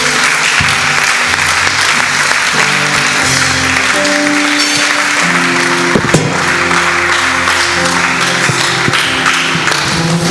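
A church congregation claps and cheers during a worship service. Dense, loud applause runs continuously throughout, with scattered voices calling out over it and a sharp slap standing out near the middle.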